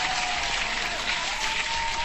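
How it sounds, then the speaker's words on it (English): Dense applause, a constant close wash of many hands clapping that stays even and loud from start to finish. "Hand clap to this man."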